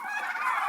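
Domestic turkeys at feeding time give a brief nasal, honking call, close and moderately loud, with no talk.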